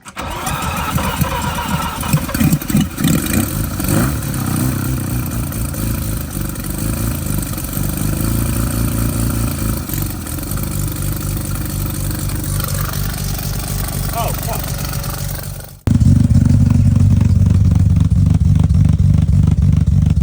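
A Mazda 13B rotary engine, a project car, cranks and fires, then runs at a raised, uneven idle with a buzzy, pulsing rasp, loud and close, before settling into a deeper, heavier idle near the end.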